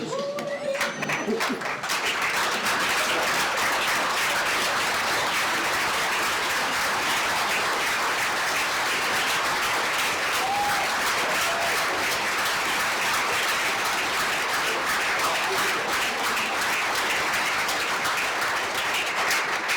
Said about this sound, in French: Mesdames et messieurs, vous levez les applaudissements